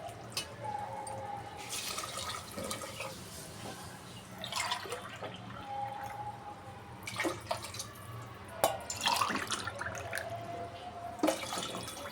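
Water splashes and trickles into a cooking pot for pulao in several bursts, close by, with brief pauses between pours and a steady low hum underneath.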